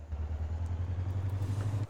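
A motorcycle engine in the video game GTA San Andreas drones steadily at a low, even pitch, close and continuous for about two seconds, then cuts off abruptly near the end.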